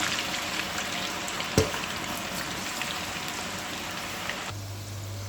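French fries cook in hot oil, a steady close hiss of fine spattering bubbles with one sharp knock partway through, then a low hum joins as the frying continues.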